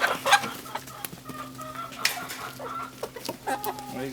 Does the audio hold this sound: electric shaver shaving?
no